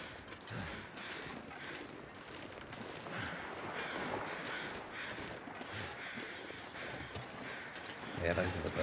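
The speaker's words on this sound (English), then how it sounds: "those are the birds that are there for that bear" Crows caw faintly and intermittently in The Long Dark video game's snowy Canadian wilderness, set against steady wind and ambient noise, with people talking over the scene.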